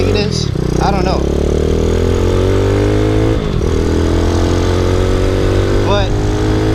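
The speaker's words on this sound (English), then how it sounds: "the engine on this, it's still pretty strong." A Boom Vader motorcycle, a Grom clone, runs steadily at close range with a constant low engine drone and slight pitch shifts, while someone talks over it intermittently.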